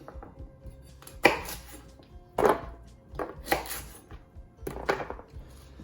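Carrots cut with a knife on a board, four or five firm chopping thuds at uneven intervals with softer handling sounds between, close and clear with no talking.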